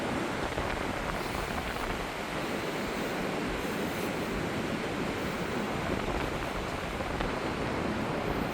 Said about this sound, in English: I'll have to wait for a wave to come in